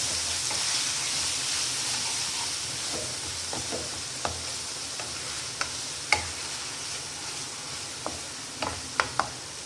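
Curry leaves sautéing in a pan for masala corn sabzi give a steady, close sizzle, with scattered light ticks and taps of a spoon against the pan rising through it.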